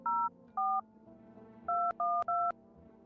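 Telephone keypad dialing tones in a video game: five short, loud dual-pitch beeps, two spaced apart and three in quick succession, over a faint low hum.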